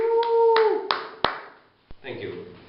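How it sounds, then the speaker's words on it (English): A few sharp, separate hand claps ring out in a small room, sparse and uneven rather than a full ovation, with a brief tonal sound at the start and a short murmur near the end. "Can we please have a round of applause for our..."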